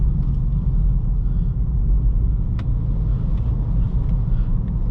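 The four-cylinder engine of a 2023 Acura Integra A-Spec hums evenly from inside the cabin while driving, a steady low drone with road rumble and no talk.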